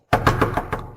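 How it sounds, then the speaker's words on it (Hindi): A run of about five firm knocks on a door at night, loud and close, spaced evenly with no voices. "आधी रात को ये क्या खटखटा रहे हो?"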